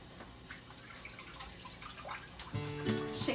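Water dripping and trickling off freshly boiled lobsters lifted from cold water, a soft continuous patter of drops close by, turning louder with a brief clatter near the end.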